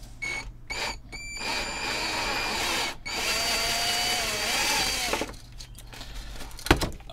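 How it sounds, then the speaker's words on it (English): A power drill bores a 10 mm hole in a Sony PS-LS60P turntable, whining in short bursts and then in one longer run with a few pauses, close and clear, with no speech. "And that's the drilling done."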